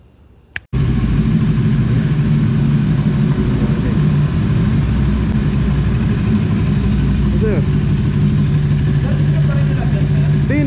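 A vehicle engine fitted with a newly installed silencer starts after a sharp click and then idles steadily with a low, even rumble, loud and close, with a voice faintly underneath.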